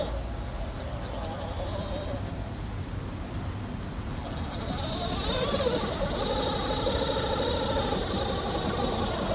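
An FMS FJ40 RC crawler with a 550 motor creeps along slowly, giving off a steady, low electric motor whine and drivetrain hum that gets a bit louder and rises in pitch partway through.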